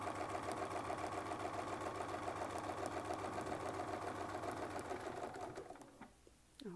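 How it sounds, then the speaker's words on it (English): A sewing machine stitches quilting along a Westalee Spinifex 11 ruler, a fast, even mechanical chatter running close and steady for several seconds before stopping, followed by a brief quiet clunk. "So adjust my hand position, and then let's go ahead and sew right back to the beginning."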